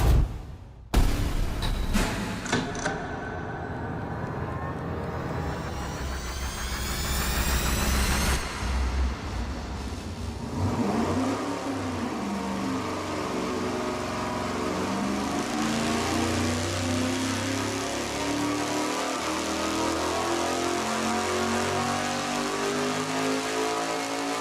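A race engine on a dyno pull near 500 horsepower roars loudly, climbing steeply in pitch with harsh rising harmonics, then holds a sustained heavy rumble close by. Nobody speaks.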